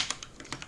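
Quick, quiet taps on a computer keyboard, several light keystrokes in an irregular burst heard close and alone.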